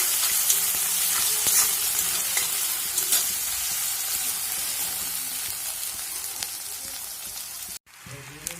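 Potatoes and soya chunks fry in hot oil with cumin powder, salt, turmeric and spices while being stirred, giving a steady close sizzle with scraping strokes that cuts off abruptly near the end.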